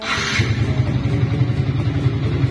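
Yamaha Vixion motorcycle engine idling close by with a steady, throbbing mid-pitched putter, loud and continuous throughout, no speech over it.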